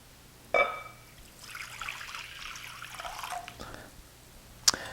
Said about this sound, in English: I'm going to measure out 400 grams of water into this mixing bowl.